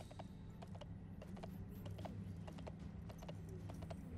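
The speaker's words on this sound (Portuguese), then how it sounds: "Por que eu tô com esse cavalo, mano?" Horse hooves clip-clop in a steady run of sharp, evenly spaced clicks over a dense, droning game soundscape in Paladins, with no voices present.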